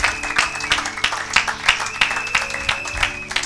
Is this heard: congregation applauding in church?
yes